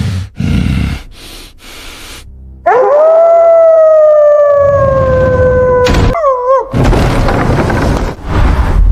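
An anime husky lets out one long, loud, sustained howl that holds steady and then wavers at its end, framed by bursts of dramatic noise and impact effects before and after.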